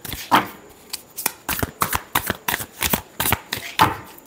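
Tarot cards riffle and slap together in a series of quick shuffling bursts, about a dozen short crisp pulses in an irregular rhythm, close and clear with no voices.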